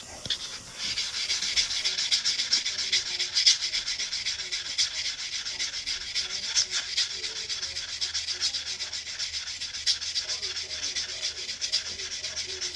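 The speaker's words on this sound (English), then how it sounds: "Now I'm going to sand this cut edge and make it smooth" The cut edge of a quarter coin ring is sanded by hand in a steady, continuous rasping hiss with fast rhythmic strokes that carries on without a break and without any talk.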